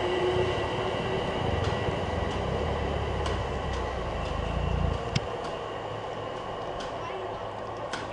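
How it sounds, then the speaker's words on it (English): A lone Class 67 diesel locomotive rumbles past through a station, a heavy low drone that fades after a few seconds into quieter station hum, with a sharp clank partway through. "it's just a lonely class 67"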